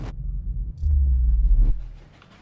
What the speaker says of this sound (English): Oh my goodness, we're on a train.